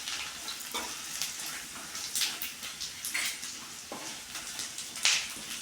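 Small pieces of dry coconut roasting in a pan for crispy avalakki, a soft crackling sizzle broken by intermittent scraping and stirring strokes, fairly quiet and close, with no talking.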